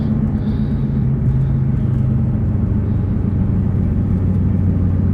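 A 2003 Ford SVT Cobra cruising in fourth gear with its booster pump unplugged, giving a steady, loud low engine rumble and road drone that holds constant throughout with no speech.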